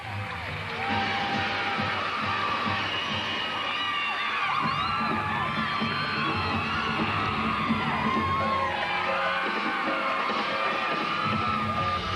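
A home crowd at a women's college gymnastics meet cheers, whoops and yells continuously at fairly close range, with shrill shouts rising over a dense roar for the whole stretch.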